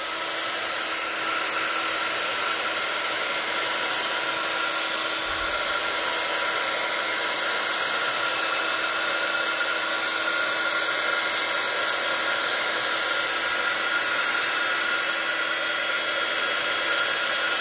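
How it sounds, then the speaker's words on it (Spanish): Hair dryer blowing steadily on watercolor masking fluid, a loud, constant whir with a high whine that runs without a break and no voices over it. "vamos a secar el líquido de enmascarar"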